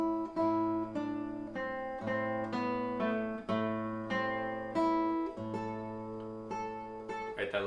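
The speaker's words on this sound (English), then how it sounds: "breaking the chord is when you take 2 notes that are supposed to happen on the same beat, like a bass note and a melody note" Classical guitar playing a slow Romanza passage, each bass note and melody note sounded slightly apart instead of together, giving a gently rolled attack on every chord, close and clear with sustained ringing and no talk.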